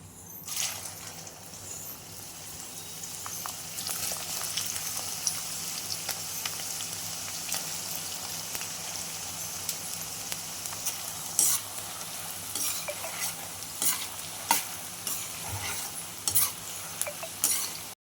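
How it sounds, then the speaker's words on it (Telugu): Small cut pieces of okra (bendakaya) deep frying in hot oil, a loud, steady, close sizzle and bubbling that continues throughout with occasional light stirring clinks. "ముక్కలు చిన్న ముక్కలు కట్ చేసుకున్న వీటిని ఇప్పుడు డీప్ ఫ్రై చేస్తాను"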